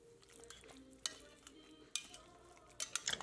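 Potatoes being mashed in a pot with milk and butter, wet squelching and stirring with sharp metallic clinks of the masher against the pan, close and fairly loud in bursts, no talk.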